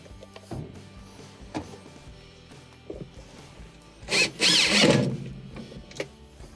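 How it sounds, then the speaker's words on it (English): Power drill driving screws into a Frigidaire washer agitator assembly, a short loud whirring burst of a few seconds amid quiet handling clicks. "Get it lined up, drill it down."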